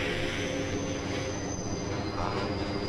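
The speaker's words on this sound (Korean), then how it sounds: "저 뒤로 전철 들어오는 거 보이지?" A subway train rolls into a station, its wheels squealing in long high sustained tones over a low rumbling rail drone, steady and moderately loud with no voices.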